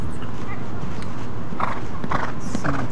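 Horse hooves thud and clatter over a few seconds during a show jumping round at an equestrian competition, amid a murmuring crowd, with a couple of sharper strikes near the end.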